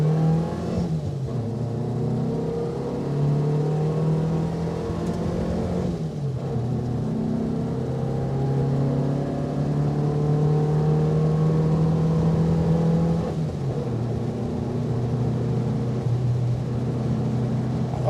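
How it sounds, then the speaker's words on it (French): A Renault Dauphine 1093 engine revs high while driving, its pitch climbing and falling through gear changes in a steady, loud drone with no talk. "C'est vraiment une voiture à aller chercher très haut dans les tours."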